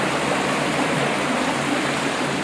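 Fast-flowing stream water rushing down from the hills through Nishat Garden in Srinagar, a dense, steady, close hiss and roar of water with no voices.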